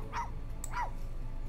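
A dog in The Sims 4 video game gives two quick barks about half a second apart, moderately loud and alone with no talking.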